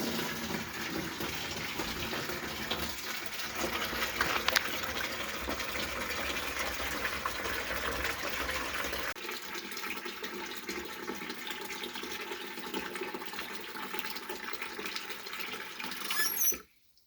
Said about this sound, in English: now that I've got my hot water in my bucket